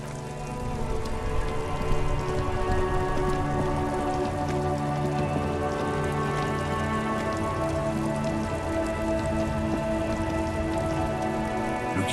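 Steady rain falls in the video game Disco Elysium, a dense, even patter on surfaces that holds at a constant level throughout, layered over a low ambient tonal bed with no talk.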